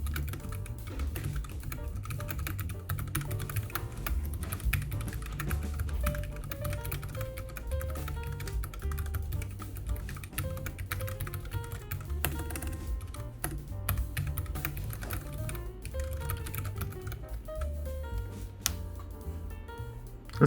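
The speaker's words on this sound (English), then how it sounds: "So the Mint keys that is on this is a little bit heavier. It's quiet enough, as you can hear." Continuous fast typing on a Keychron K7 Bluetooth mechanical keyboard with slightly heavier Mint switches, a close, quiet stream of soft key clicks and taps with no voices.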